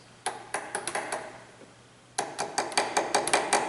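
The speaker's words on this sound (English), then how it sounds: "I'm going to reach down here and I'm just going to give it a little whack" A Honda CR-V EVAP purge solenoid is whacked by hand, giving two bursts of sharp, close metallic clicks and taps in quick irregular rhythm, separated by a brief quieter pause.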